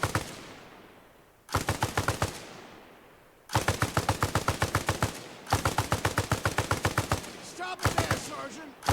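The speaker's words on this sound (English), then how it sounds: "Have your boy lay down suppressive fire. Squad, suppressive fire!" Rapid bursts of automatic rifle fire from an infantry squad in the military shooter Arma Reforger, loud and close, fired in several sustained strings separated by short pauses and decaying echoes.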